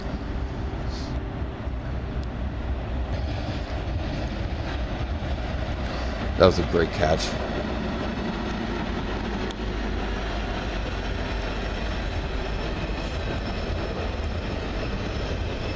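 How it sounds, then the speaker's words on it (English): A Norfolk Southern freight train rolling through Bound Brook with a Wabash unit trailing, a loud continuous rumble and wheel noise throughout with a brief clanking burst midway and a voice speaking over it. "This had the Wabash trailing on this Norfolk Southern train."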